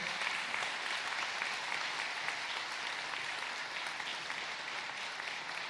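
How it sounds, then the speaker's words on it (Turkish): Sustained crowd applause at a political rally in Van, dense and steady throughout, with many hands clapping at once and no voices standing out. "Güçlü alkışlarınızla efendim."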